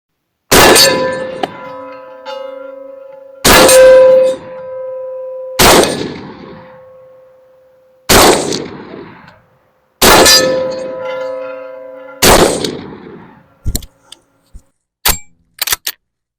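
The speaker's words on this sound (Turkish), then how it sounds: "Şimdi 40-45 metre aralığında mesafeye Hardox çelik hedefe kurşun atışı yapacağım arkadaşlar." 29 g shotgun slugs from an AXOR FS-PRO folding tactical shotgun strike a Hardox steel target at 40–45 metres. Six loud ringing metallic clangs land a couple of seconds apart, followed by several shorter, sharper hits near the end.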